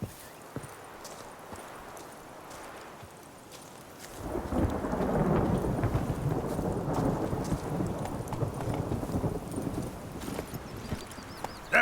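Roach the horse galloping in The Witcher 3, a quiet stretch giving way to a loud, dense rumble of hoofbeats mixed with rain and thunder-like ambience.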